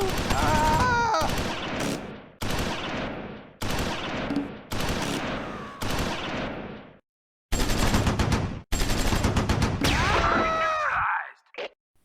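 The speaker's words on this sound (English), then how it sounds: "Hermann's Greyhound, fires through the ground floor of the 2-storey building" Bursts of Greyhound armored car gunfire in the Close Combat 4 World War II video game at Baugnez, firing into the ground floor of a two-storey building: several loud automatic volleys separated by short pauses, ending in a final ragged burst that fades out.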